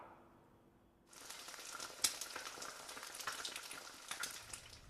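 Roman-style hamburger patty frying over an open kitchen fire, a steady crackling sizzle that starts abruptly after about a second and continues close and moderately loud with small pops, no talk.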